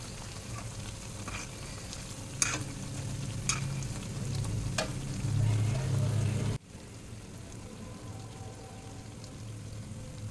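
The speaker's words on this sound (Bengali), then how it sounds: "এভাবে আমি সবগুলো বড়া লাল লাল করে ভেজে নেব।" Lentil fritters deep frying in hot oil, a dense bubbling sizzle with a few sharp spatula taps, close by; the frying sound drops to a quieter hiss near the end, with no talk.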